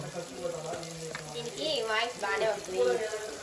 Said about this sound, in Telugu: టమాటాలు బాగా మరిగిపోతున్నాయి